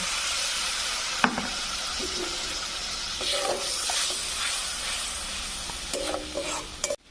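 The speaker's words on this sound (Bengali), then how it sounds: "অল্প একটু জল দিয়ে ভালোভাবে কষিয়ে নেব।" Spices with turmeric powder and a splash of water sautéing in a pan, giving a steady hissing sizzle with a few clinks and scrapes of stirring, no talking.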